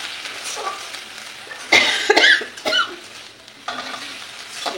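Poppy seeds frying in oil in a pan are stirred, giving a soft close sizzle with scraping bursts of stirring in the middle, and no voices.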